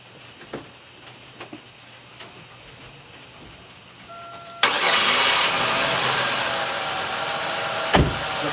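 A 1997 Chevy Malibu with a rough idle cranks briefly, fires up and settles into a loud, steady idle, with a sharp clunk near the end.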